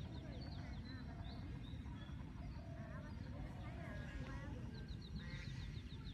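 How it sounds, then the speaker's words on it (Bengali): Ducks or geese quack and honk in a loose scattered chorus over steady outdoor background noise, with faint voices talking at a distance throughout. "দুইটা রাজা হাঁস একসাথে আসতেছে"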